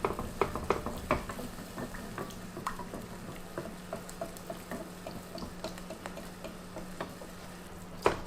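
A cooling cooking mixture is stirred in a pan, giving a steady bed of soft scraping and sizzling with frequent small ticks and clinks of the utensil against the pan, continuous and close, with no talking.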